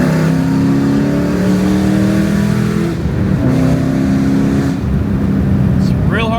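A Ford Mustang fitted with Corsa Extreme mufflers accelerates hard, its loud exhaust rising in pitch through gear pulls with brief dips between shifts.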